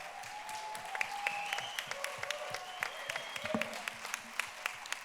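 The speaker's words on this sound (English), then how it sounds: "huge round of applause for Rosenthal." Audience at a journalism conference's final panel applauding, a moderate steady patter of many hands with sharper individual claps standing out and faint murmuring mixed in.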